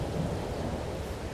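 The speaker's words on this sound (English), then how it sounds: "Oh, blimey! It's raining!" Rain and rumbling thunder in the Farming Simulator 22 video game, a brief low, steady roar of weather noise, fairly faint and without speech.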